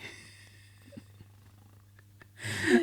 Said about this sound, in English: this one little kitty's putting us to sleep here with her purring